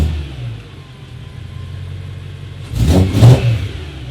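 A BMW M3 fitted with an AFE intake idles with a low, steady rumble, then gives two quick, loud revs near the end.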